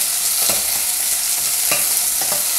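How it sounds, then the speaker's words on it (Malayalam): Sliced onions fry in hot coconut oil with cinnamon for a mixed vegetable curry, a loud continuous sizzle with a few scraping stirs of the spoon against the pan, close up with no voices. "ഒന്ന് ഇളക്കാം"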